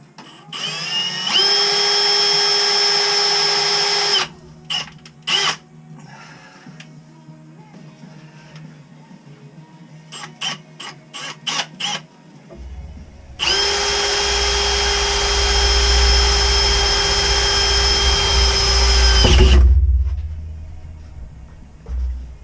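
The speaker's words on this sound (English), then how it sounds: "Drilling our second hole, then we're going to drop the shock through." A power drill whines loudly for a few seconds, pauses with scattered clicks and knocks, then runs again for a long stretch with a deep rumbling load, drilling a shock mounting hole for rear four-links on a K30 Blazer.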